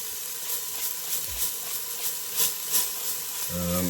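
Onions, garlic and ginger sizzling in a pan for chicken molee, a steady hissing fry with small crackling bursts, moderately loud, a low tonal hum entering at the end.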